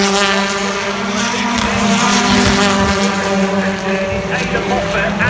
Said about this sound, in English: Ada Moffat and Jack North who are motoring their way straight